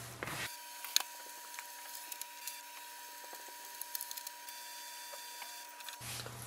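An HP Envy Pro 6432 printer scans from its document feeder, giving a steady faint mechanical whir with small clicks and ticks for about five seconds, in a quiet room with no talking.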